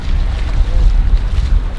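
Wind gusting across an open ocean cove in Mirissa, Sri Lanka, producing steady low rumbling buffeting with no voices.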